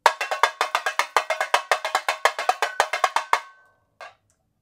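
A tamborim is struck rapidly with stick ends, a fast steady run of bright, dry metallic-sounding taps, then a pause and one last hit.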